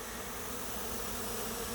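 Swarm of honeybees landing near hives in a September bee yard, a dense continuous buzzing drone, loud and steady throughout with no talk.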